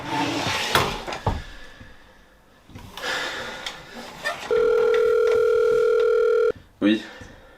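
A continuous telephone dial tone sounds clearly for about two seconds in the middle, with handset clatter and room noise before it, as a call is placed to deliver news of a death.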